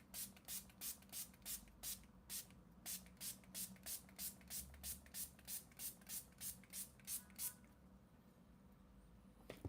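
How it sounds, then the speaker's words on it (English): Hair spray is misted over a finished flaming red makeup look in about twenty short, evenly spaced hissing bursts, close and loud, before it falls quiet near the end. "Oh my god, spray! I totally forgot spray."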